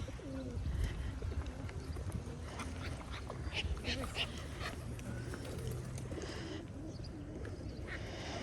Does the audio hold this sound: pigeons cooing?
yes